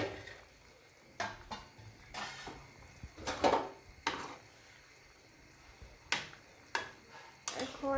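Spoon scraping and clanking in a pot of rohu fish curry with tomato, beans and potato, in a few scattered strokes over a low, steady background.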